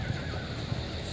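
A horse whinnies loudly and close by at an outdoor horse market in Sokuluk, with a busy crowd murmuring behind it.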